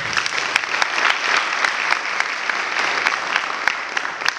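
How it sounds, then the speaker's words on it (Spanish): Audience at the official launch of Chile's 23rd Architecture and Urbanism Biennial breaks into sustained applause, a dense, steady wash of many hands clapping at close range with sharper individual claps poking out, no voices over it. "así que también les ofrezco un afectuoso aplauso"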